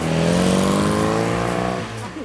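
A Fiat 850's small engine running loud and close, a raspy droning note that holds steady before easing off at the end.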